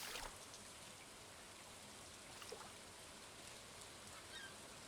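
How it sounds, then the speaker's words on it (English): Rain falls in the video game Stardew Valley as a very quiet, steady hiss with scattered soft drop ticks, continuous and faint, with no voices. "just the random rain noises"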